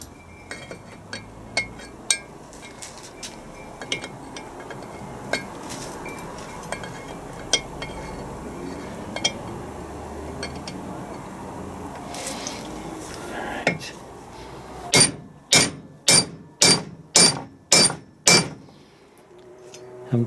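Metal clinks and taps sound through a quiet workshop on a Land Rover Defender TD5 LT230 transfer box, then about seven hard, evenly spaced hammer blows ring out near the end.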